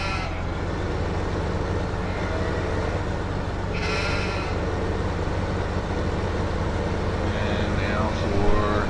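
Sheep bleating in a farming video game, a few bleats rising over a steady, dense mechanical rumble of machinery, with a voice talking over them.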